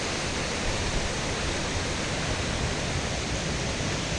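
A river in Hayfield memorial park in the High Peak, Derbyshire, rushes steadily in an even, continuous wash of flowing water with no voices.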